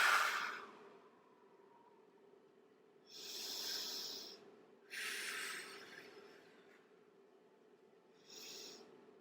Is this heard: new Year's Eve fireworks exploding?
no